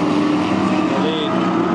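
Stock car engines straining around a race lap, a loud sustained roar with rising and falling tonal whine from passing cars, continuous and fairly close.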